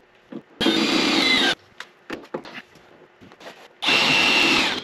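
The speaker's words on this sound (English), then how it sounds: "I'm going to drill here and work my way out." A power drill whirs loudly in two bursts, about a second each, drilling a RZR Pro XP fender for flare installation, with scraping and handling noises in the pause between.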